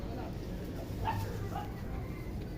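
A puppy being readied for a bath gives a few faint yips and whimpers close by, brief and soft against a low background hum.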